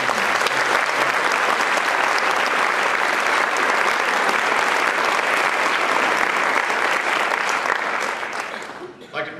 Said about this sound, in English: Let's give a round of applause to welcome all of our guests this evening